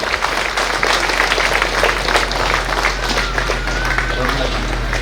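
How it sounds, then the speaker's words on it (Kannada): Loud applause from women in a studio audience, dense continuous clapping over a steady low hum, with voices mixed into the crowd noise. "ನೋಡ ಮಹಿಳೆಯರು, ಜೋರಾದ ಚಪ್ಪಾಳೆ ಬರಲಿ"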